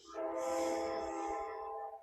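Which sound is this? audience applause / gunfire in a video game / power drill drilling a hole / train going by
train going by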